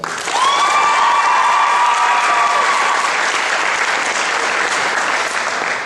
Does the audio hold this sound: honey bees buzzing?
no